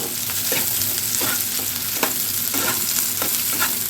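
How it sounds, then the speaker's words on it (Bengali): Sliced onions browning in hot oil for an egg curry, a steady loud sizzle broken by regular scraping strokes of a spatula stirring the pan, close up with no voices. "পেঁয়াজটা প্রায় ব্রাউন হয়ে আসছে,"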